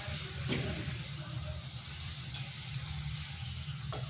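Semolina and yogurt snacks fry in hot oil, a steady close sizzle with a few soft stirring clinks, no talk.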